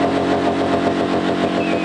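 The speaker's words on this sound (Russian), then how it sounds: "мотоциклисты демонстрировали пилотаж вождения и хвастались громким ревом своих железных коней" Motorcycle engines at a moto carnival in Sochi, Russia; a loud, close, steady throbbing idle with a pulsing, rumbling rhythm, sustained throughout with no voices.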